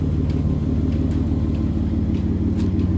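Low, steady engine rumble from a 7th-generation Nissan Maxima, a continuous droning idle with even harmonics, fairly close and alone with no talking.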